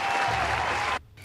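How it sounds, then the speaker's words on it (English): An audience gives a short, dense burst of steady clapping that cuts off abruptly near the end, leaving a quieter tail. "There's the audience. There's the applause."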